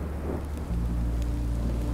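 Steady rain hiss with a low rumbling thunder layer that swells in partway through, ambient weather in the Minecraft: Story Mode video game, no talk.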